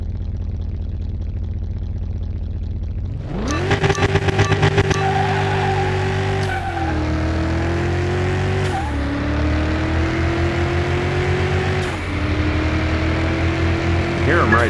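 Race car engines in the Car Mechanic Simulator 2021 video game roar loudly as cars run side by side, with rising and falling revs, gear shifts and a rapid burst near the start, filling the whole stretch after a quieter opening.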